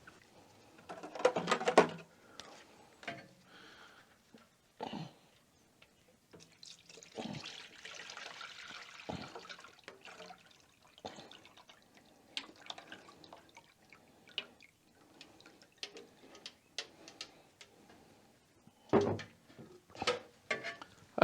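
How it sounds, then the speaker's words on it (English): Liquid is poured into a Harbor Freight ultrasonic cleaner while a Solex carburetor from a VW Super Beetle is rebuilt. It sounds like a quiet trickle and scattered drips with a few soft clunks, faint and close. "And pour it out there. Seems to pour a little evenly."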